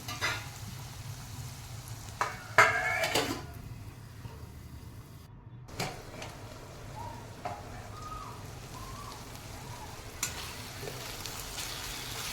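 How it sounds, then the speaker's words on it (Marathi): Ridge gourd cooks in oil without water in a covered pan, giving a soft, steady sizzle with a few louder clinks and scrapes early on and quiet bubbling pops. No one speaks. "आता थोडीशी शिजत आली आहे भाजी आणि छान तेल सुटलं आहे भाजीला"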